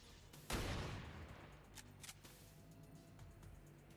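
Gunfire in the video game XCOM 2 Long War of the Chosen: one loud, close blast that booms and decays, followed by a few fainter shots and clicks.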